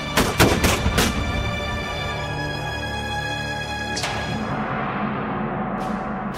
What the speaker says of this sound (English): Cromwell's gunners opened up with 8 cannons and 2 mortars, firing 100 shots in all